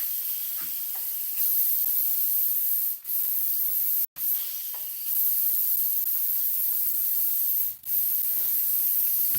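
An aluminum diving-lip musky crankbait lure spray painted in short bursts, with several close hissing sprays separated by brief pauses, alone without talk.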